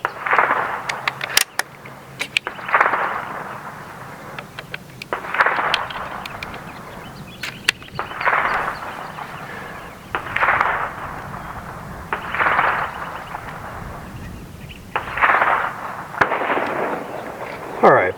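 Seneca Dragon Claw .50 caliber PCP air rifle firing at a 50-yard target: about seven loud, sharp reports spaced a couple of seconds apart, each with a brief ringing tail, with no talk between them.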